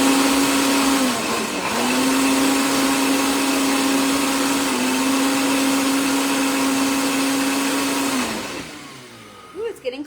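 Blender whirring steadily through a cottage cheese naan batter made with almond flour, a loud continuous motor drone with brief dips in pitch before it winds down and stops near the end.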